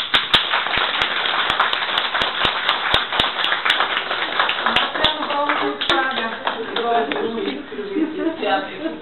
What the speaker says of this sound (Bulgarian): с аплодисменти.